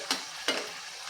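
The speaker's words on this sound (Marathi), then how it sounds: "पहिल्यांदा सुरुवातीला एकच साइड आपल्याला तळायची आहे नंतर मग पलटवून दुसरी साईड तळून घ्यायची आहे" A fenugreek puri, dough mixed with chopped fenugreek leaves, fries on one side in hot oil with a soft, steady sizzle punctuated by two quick crackling pops.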